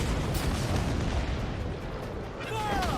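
Ship mortar cannons fire in a naval battle in a video game, giving loud, booming blasts that roll into a dense rumble, with a brief voice-like sound near the end.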